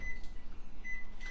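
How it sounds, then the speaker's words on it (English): A microwave oven heating frosting runs with a steady low hum and a faint whir, carrying a thin high tone that drops out and returns, close and quiet with no talk. "just 10 seconds in the microwave because we want it to kind of easily glide over"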